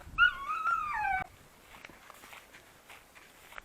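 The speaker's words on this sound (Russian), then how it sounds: "Вон, собачка тоже тут." A dog gives a high, wavering whimper for about a second at close range, then soft shuffling and faint movement follow outdoors.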